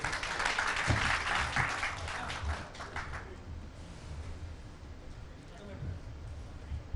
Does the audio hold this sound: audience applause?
yes